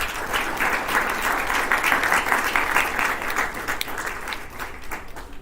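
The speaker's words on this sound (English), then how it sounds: "Let's give a huge round of applause to these finalist teams." Loud, sustained audience applause greets finalist teams at an international convention in India on sustainable development, many hands clapping steadily before easing off near the end.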